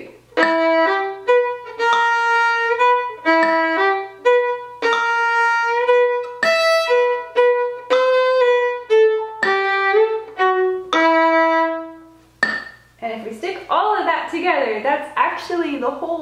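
Solo fiddle plays a tune in a quick run of clear bowed melody notes, close and loud; a voice talks briefly over a few plucked or scratchy notes at the end.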